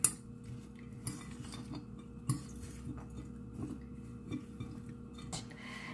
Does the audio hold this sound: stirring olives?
yes